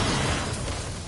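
A grenade blows up in the shooter game Destiny, a loud, dense blast that fills the short moment with roaring, rumbling noise from start to finish.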